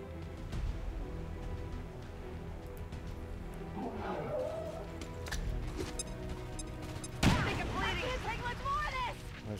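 An incendiary grenade in XCOM 2 lands and goes off: a heavy booming blast late in the stretch, followed by crackling, roaring burst, over a rumbling battlefield background.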